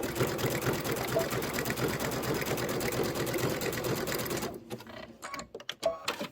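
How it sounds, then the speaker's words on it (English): A sewing machine runs a fast, steady back stitch through freestanding lace for several seconds, close and continuous, then stops, followed by a few soft clicks and handling sounds. "And I am going to do a little back stitch."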